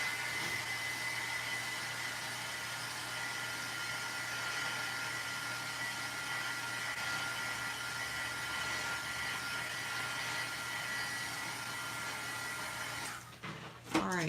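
A heat tool heat-setting ink gives a steady, airy blowing whir that holds evenly throughout, ending with a brief clatter as it shuts off.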